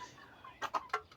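A few short clucks from a small group of paired hens kept with a large rooster, three quick calls at close range over a faint background hiss.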